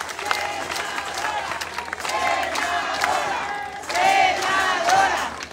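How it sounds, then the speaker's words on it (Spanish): A crowd at an outdoor political candidates' rally in Tecámac, Mexico, applauding and cheering for a senate candidate, steady clapping with shouted chants that swell louder near the end. "no nos cansa darle aplausos a ella"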